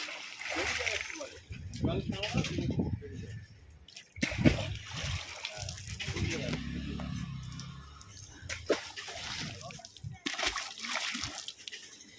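Newly released fish splashing in a lake, bursts of water splashing and sloshing near the bank, close and intermittent, with people talking excitedly over and between the splashes.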